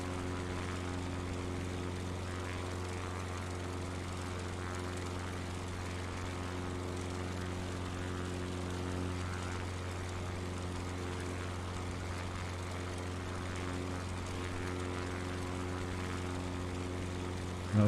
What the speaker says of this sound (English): That's where them F-15 afterburners kick in real nice.